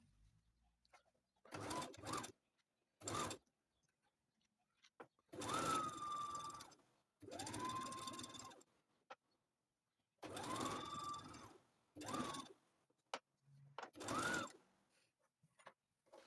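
A sewing machine stitching the neckline of a child's graduation gown runs in several short bursts of whirring, each a second or so long, separated by quiet pauses, close and clear with no talk.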